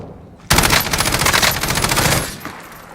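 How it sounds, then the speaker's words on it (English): Rapid automatic gunfire in Call of Duty Warzone, a loud burst of closely spaced shots starting abruptly after half a second and lasting nearly two seconds before tailing off. "Get a nice couple of shots off there."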